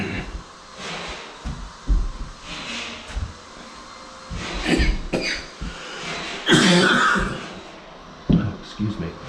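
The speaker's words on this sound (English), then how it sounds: "Even if it's just a slight cough." Several short coughs break through a room's background noise, mixed with someone talking and soft throat sounds.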